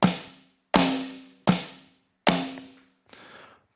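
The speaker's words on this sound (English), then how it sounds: "the snare drum and the rim sound like this" Five sharp hits from a Yamaha DTX-PRO electronic drum kit at an even pace, four ringing snare strikes followed by a thinner, softer rim hit, each decaying quickly.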